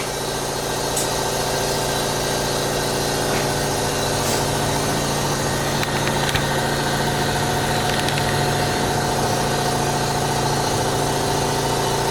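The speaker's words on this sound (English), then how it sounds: "we're waiting for the compressor to build up" An air compressor runs steadily in a repair workshop, building up pressure with a constant mechanical drone and hum, with no talking.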